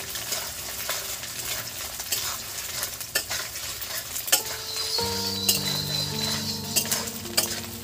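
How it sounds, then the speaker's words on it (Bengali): Coconut pieces fry in hot oil in a pan, a steady close sizzle with stirring and light metallic clinks of a utensil against the pan, no voices. "এই নারকেলগুলো আমি ভেজে নেব"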